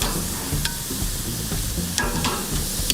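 Broccoli sizzling flat side down on a hot grill with open flame, a steady crackling hiss broken by a few sharp pops, close and fairly loud with no voices.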